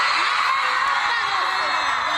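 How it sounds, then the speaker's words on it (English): Loud, sustained screaming from a crowd of fans at a Harry Potter fan meeting in Helsinki with two actors, a dense continuous roar of high-pitched shrieks and whoops, with voices talking underneath. "the screaming is quite loud"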